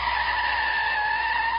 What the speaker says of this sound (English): Whoa, hit the brakes.